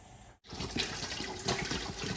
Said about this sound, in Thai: แล้วก็น้ำสะอาดใส่เลย